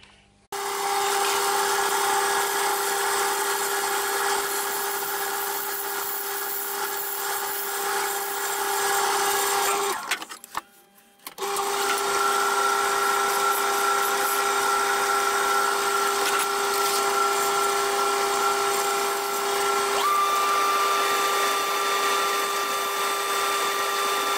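A wood lathe spins a novelty box while a turning tool thins its walls, giving a steady high-pitched whirring hum that cuts out briefly near the middle before resuming, continuous and close with no talking.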